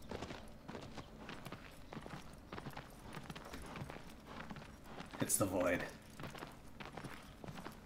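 Rapid, light video-game horse hoofbeats in a steady prancing trot rhythm, fairly quiet, with a brief louder burst midway and a voice speaking briefly over it.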